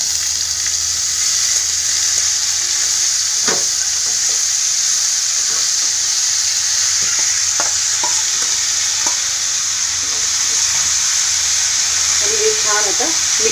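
Ridge gourd frying in a garlic and green chilli tempering, a steady loud sizzle and hiss throughout with occasional stirring clinks and scrapes of a spoon against the pan.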